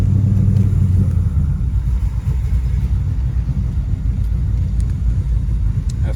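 A poorly tuned car engine idles roughly with a steady, loud, low rumble that dips and wavers unevenly, running alone and close by with no talking.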